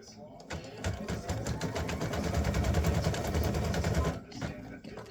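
Bellissimo Baby Lock embroidery machine stitching a gnome's beard: a rapid, even needle rattle that builds, holds steady, then stops, with a person talking under it.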